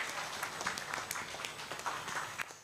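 Applause from a crowd at a university orientation event, many hands clapping in a dense, moderately loud stream with some sharper individual claps standing out.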